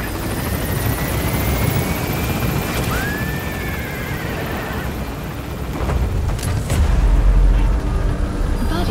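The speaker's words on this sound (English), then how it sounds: "Please select a land support helicopter." A land support helicopter in Metal Gear Solid V: The Phantom Pain roars steadily up close as it takes off, rotor noise dense and loud throughout, with a few thuds and bangs near the end.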